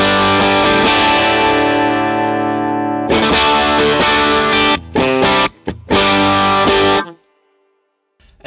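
Distorted electric guitar played through an AmpliTube 5 AD30 amp model, a sustained chord ringing loudly, then choppy strummed chords with sharp stops before cutting to silence.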